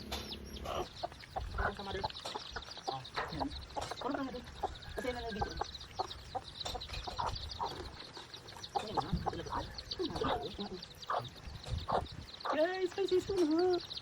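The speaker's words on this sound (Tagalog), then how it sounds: "Si inahin para hindi siya magalit." A mother hen sitting in her nest with chicks clucks repeatedly nearby, soft rhythmic clucks and occasional louder calls, while people talk over her.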